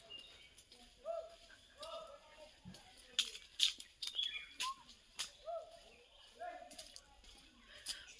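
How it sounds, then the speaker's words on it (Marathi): Birds chirp and call in the green forest at Matheran's Honeymoon Point, short bright calls scattered across the scene at moderate distance, with faint people's voices now and then beneath them. "पक्ष्यांचा आवाज येत आहे"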